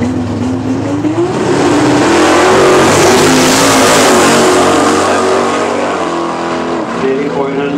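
Heavy drag race cars, one of them a BMW, launch and accelerate hard at Helsinge Open, a loud rising engine roar that swells and then fades slightly, with a commentator talking over it.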